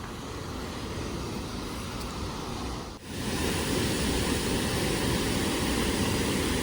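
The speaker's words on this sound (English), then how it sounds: "This is the Brussels Dam beside the mill on the Maitland River." Steady, full-bodied rush of water pouring over the Brussels Dam beside the mill on the Maitland River, constant and close with a brief dip midway, no voices.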